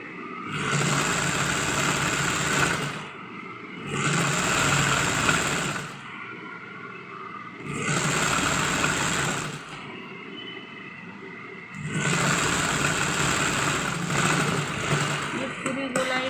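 A sewing machine stitches around a kurti neckline in four sustained runs separated by brief stops, up close and moderately loud.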